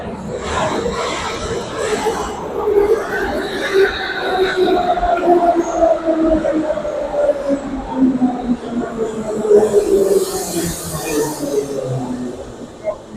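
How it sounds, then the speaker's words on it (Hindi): A train pulls into a station in Tbilisi, Georgia, its rumble and drawn-out squealing brake tones gliding downward across the scene while people chatter in the background. "ये आ रही है यहाँ से ट्रेन"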